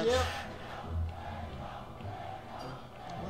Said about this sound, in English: Oh man, the crowd's going wild.